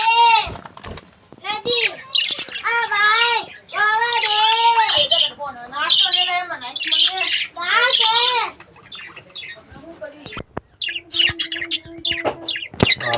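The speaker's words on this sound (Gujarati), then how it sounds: "તો જો દોસ્તો, આપણા મિની ઝૂના બર્ડ કેજીસમાં આપણે જોઈ લેવી." Caged birds in a mini zoo squawk loudly in repeated harsh, rising calls, some overlapping, with shorter chirps and a brief flutter of wings toward the end.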